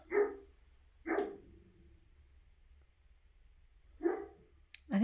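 Cooper, a dog playing outdoors, gives four sharp, separate barks with gaps of a second or more between them, slightly distant and clear with no talking over them.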